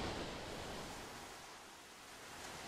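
A steady wash of sea noise, broad and hissing like surf rolling continuously, sits at a low, even level throughout with no voices.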